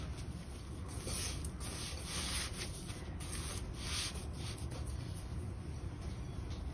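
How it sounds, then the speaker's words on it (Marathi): Hands mix a besan ladoo mixture with raisins in a bowl, making soft, continuous rubbing and gritty scraping sounds close by with no talk. "आता हे सगळं आपल्याला हाताने मिक्स करून घ्यायचंय."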